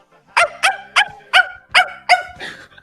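A man imitates a dog with his own voice, giving six short, sharp barks in a quick, fairly even rhythm, loud and close, with no other talk around them.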